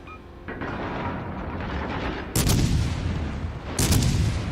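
Cruiser guns fire in World of Warships, with a naval battle's rumble underneath. Two loud, booming salvos land about a second and a half apart, each a sharp blast with a rolling tail, and there is no talk.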